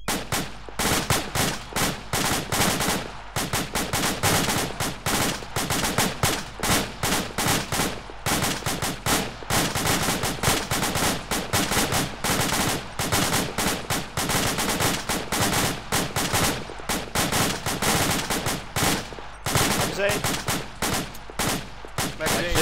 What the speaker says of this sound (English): commence suppression fire on that target